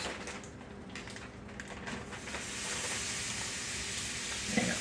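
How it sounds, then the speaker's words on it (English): Vegetables sautéing in a whole stick of melted butter, a steady close sizzle with occasional stirring clatter, growing slightly louder toward the end. "Butter, a whole stick, because we're going to saute these vegetables."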